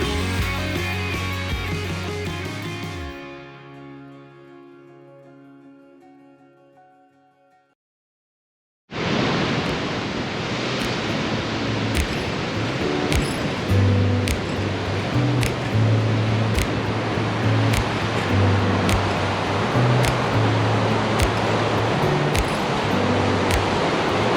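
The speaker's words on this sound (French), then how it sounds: "sur la dune à cause du vent et aussi sur la mer avec les vagues" Broadband rushing sea waves and wind on top of a coastal dune during big spring tides, a steady loud wash with no talk, preceded by several seconds of music fading out.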